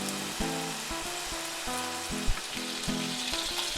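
Homemade burger patties fry in a pan with a steady close sizzle, broken by rhythmic low scraping or tapping bumps from a utensil.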